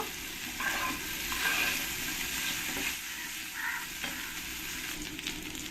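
Potatoes tossed with a little turmeric fry in oil until reddish for a Bengali-style prawn curry, giving a steady crackling sizzle with occasional stirring scrapes throughout.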